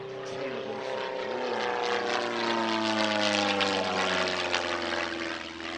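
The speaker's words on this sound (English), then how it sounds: "a Formula 1 racer designed in the early 1950s known as the Cassett Racer 3M" Cassutt Racer 3M, a tiny early-1950s Formula 1 racing plane with a 100 horsepower Continental O-200 engine, flying at an airshow: a loud, continuous propeller-engine drone whose pitch slowly shifts as it passes.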